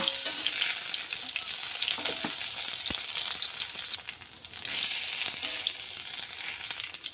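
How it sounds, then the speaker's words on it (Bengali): Puti fish paturi with a red lentil paste coating frying in a pan, a steady broadband sizzle running throughout with occasional faint scrapes and clinks as it is turned, no one talking. "এইভাবে কিন্তু উলট পালট করে লাল করে ভাজিয়ে নেন।"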